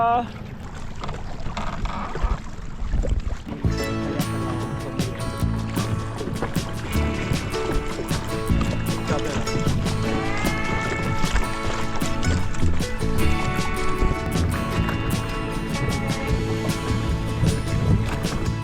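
A boat motor runs flat out across a reservoir at a Thai campsite, a loud steady engine drone that fills the whole stretch with wind and water noise, with no talk over it.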